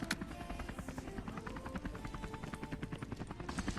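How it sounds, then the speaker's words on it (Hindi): Helicopter approaching in Scarfall 2.0 gameplay: a steady rapid rotor chop with a continuous engine drone, close and constant throughout, with no talk. "तभी मेरे को एक और हेलीकॉप्टर का साउंड आता है।"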